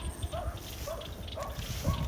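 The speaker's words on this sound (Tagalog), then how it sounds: "May aso." A dog on a tomato farm barks in short, repeated yips, about four times at a steady rhythm over roughly two seconds, moderately distant, with faint outdoor noise underneath.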